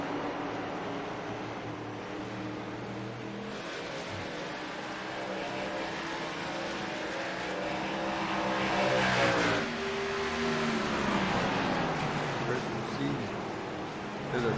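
Race cars battle on the track at Gateway in a continuous engine roar that swells and fades as they pass, under steady commentator talk.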